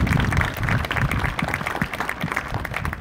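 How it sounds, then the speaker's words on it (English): Wedding guests at a ceremony give a round of applause, a fairly quiet and steady spatter of clapping that tapers off slightly toward the end. "So really, a round of applause for all of you."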